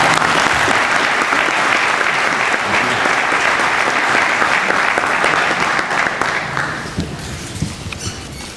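An audience at a spring master's hooding ceremony applauds to welcome a speaker, a dense, loud wash of clapping that holds steady and then fades out near the end.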